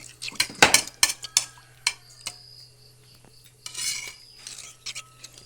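A spoon stirs jaggery payasam with ground cumin and cardamom in a metal pot, giving close, irregular clinks and scrapes against the sides with short rubbing passes and quiet gaps between.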